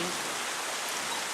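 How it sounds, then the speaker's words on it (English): Rain falls steadily during a thunderstorm in Tacoma, Washington, a dense hiss of drops spread evenly across the short stretch, with no voices. "Almost a half inch of rain."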